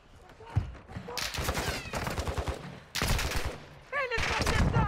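Gunfire in Call of Duty Warzone DMZ, with an airport setting, where sustained bursts of shots crackle in two main stretches, fairly quiet, alongside faint in-game noises.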